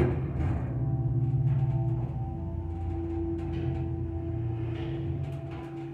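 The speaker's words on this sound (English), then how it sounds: "listen to this motor" A Dover traditional hydraulic elevator's motor in a glass elevator of an office building runs with a steady low hum and a sustained mid-pitched whine, droning continuously and close with no speech.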